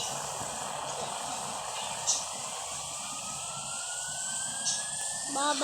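A jet pack in the video game Indian Bike Driving hisses steadily while a thin whine slowly climbs in pitch over several seconds, with faint blips on top.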